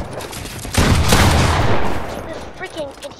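A short burst of rapid gunfire erupts in the Fortnite video game, a loud dense volley lasting about a second before fading, with scattered smaller effects afterward.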